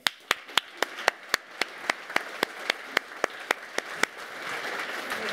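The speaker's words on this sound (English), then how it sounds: "please give a very, very warm hand to the founder of the Next Web" Conference audience welcoming a speaker at a summit, beginning as a run of distinct, evenly spaced sharp claps, then spreading into a broader wash of applause at moderate distance.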